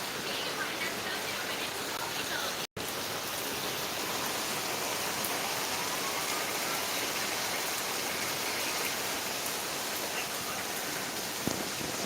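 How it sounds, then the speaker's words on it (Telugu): Steady rain falls into water outdoors on a sunny-yet-rainy day, a continuous broadband patter holding even from start to end, close and fairly loud, with a brief dropout early on. "నీళ్ళలో వాన పడుతుంది."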